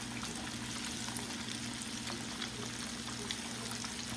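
Shrimp frying in hot oil for a Lent Friday dinner, a steady, dense sizzle and crackle holding at even loudness throughout, with no talking.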